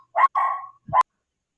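A dog gives three short, sharp barks, close and loud, with brief silences between them and silence after.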